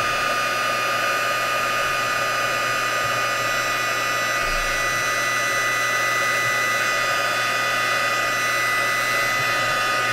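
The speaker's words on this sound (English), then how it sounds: "All right, so now we're going to heat. Heat embossing, still one of my favorite things." A heat embossing tool blows with a continuous whirring, hair-dryer-like hum while melting embossing powder on a craft project, steady and close throughout with no talking.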